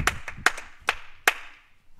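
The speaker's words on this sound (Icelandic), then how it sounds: "Það er klappa fyrir IA-ingum og við eigum bara að gera það" A few sharp, separate hand claps ring out close by at an uneven pace, applauding the ÍA youth football team after a match, with only a small group joining in.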